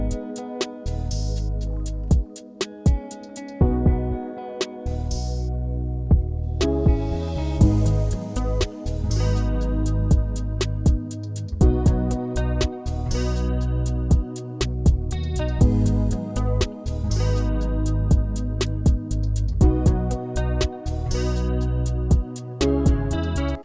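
Guitar-inspired R&B beat built in Studio One 5, with some drum elements pulled back ahead of the chorus: steady layered guitar chords over deep bass and punchy percussion, loud and continuous with brief dropouts, no voices.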